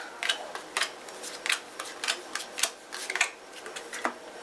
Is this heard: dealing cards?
yes